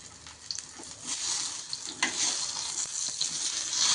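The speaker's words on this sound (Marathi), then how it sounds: "तेल तव्यावर टाकून घेतलं आणि हे पानं लगेच ह्याच्यावर टाकलं" Colocasia (alu) leaves fry in oil on a flat tawa, giving a steady close sizzle with small crackling pops that rise and fall, with no talking.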